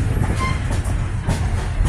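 A Western Maryland Scenic Railroad train rolls along the tracks near Cumberland, Maryland, producing a steady, loud low rumble with faint rail clatter throughout.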